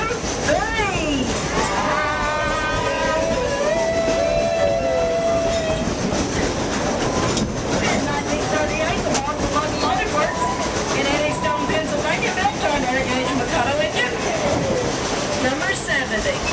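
Baldwin 2-8-2 narrow gauge steam locomotive No. 70, weighing about 235,000 pounds, rolls along at Dollywood with loud clattering wheels, a hissing rumble and whistle-like tones, and voices talking over it throughout.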